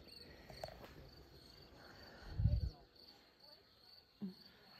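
Crickets chirp faintly through a calm evening by a lakeside boardwalk, with a thin steady trill, a soft thump midway and a brief sharper sound near the end.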